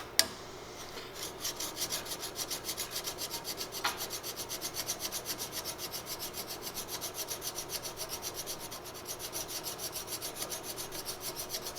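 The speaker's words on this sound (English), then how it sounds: "So we're going to use a mill file to then level everything out." A mill file draw-files across a rifle ramrod tip, giving a close, even run of rhythmic rasping strokes about four or five per second, alone and steady throughout.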